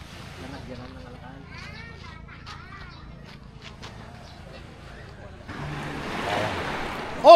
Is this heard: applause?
no